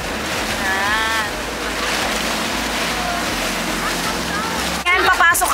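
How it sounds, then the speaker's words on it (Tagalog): Steady rushing sea surf and wind noise at El Nido, Palawan, fill the whole stretch, with a brief burst of sharper splashing and clatter near the end. "So ngayon, mas mataas ang alon compare kaninang umaga."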